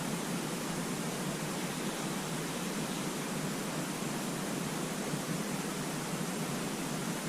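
Wind blowing through the woods, a steady broadband rushing hiss with no gusts or breaks, constant and fairly loud from start to finish.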